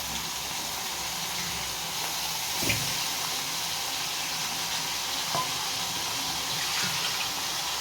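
Tap water runs in a steady hiss while raw chicken is rinsed for a home-style chicken curry, with a few soft splashes and clinks and no talking.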